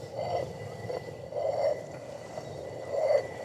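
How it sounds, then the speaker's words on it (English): A rotary quern hand mill grinding barley grain, giving a soft rhythmic grinding rumble that swells in slow repeated turns, close and fairly quiet. "You pop a handful of grain in the centre, barley in this case, and off you go."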